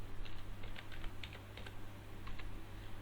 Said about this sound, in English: Okay, type the PAN number.